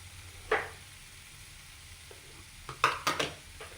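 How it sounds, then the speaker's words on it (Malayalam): A spoon scrapes and stirs mashed sweet potato with onion and chili in a pan over a gentle sizzle, with a single stroke followed by a quick cluster of strokes. "ഈ മുളകിൻ്റെയും സവാളയുടെയും കൂടെ നന്നായി മിക്സ് ചെയ്തെടുക്കാം"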